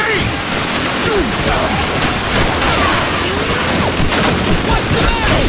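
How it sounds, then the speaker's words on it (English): Dense, continuous suppressing gunfire in Call of Duty 2, rapid rifle and machine-gun shots overlapping into a loud, unbroken barrage with no pauses. "Lay down suppressing fire!"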